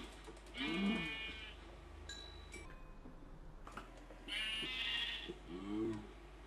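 A cow moos in a French-language video game, two or three bleating, moo-like calls standing out near and clear over a low steady hum, with no speech.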